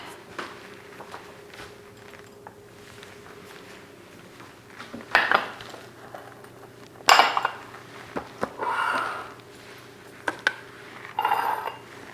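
Glass jars for homemade skincare clink and knock against a hard surface in a quiet room, with a few sharp bright taps and clatters spread out irregularly over soft handling noise, up close.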